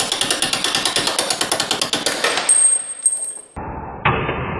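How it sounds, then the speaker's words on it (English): Repeated metal-on-metal hammer blows drive a 1/4 inch socket extension used as a punch against a door hinge pin on a Ford F-series OBS truck, about twenty quick rhythmic strikes, then a ringing clink and scraping as the pin comes free. "I'm going to use a 1/4 inch extension to punch this through"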